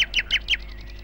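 A sparrow nesting with eggs gives a quick run of four bright, close chirps, followed by fainter echoing repeats fading away, with nothing else over it.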